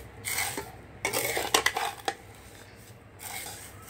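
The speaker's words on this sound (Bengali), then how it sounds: "তাহলে আমি একটু লাল করে ভেজে নিচ্ছি সেমাইটাকে।" Vermicelli frying in oil in a pan, with a utensil scraping and stirring in short, close bursts over a faint background hiss, no talking.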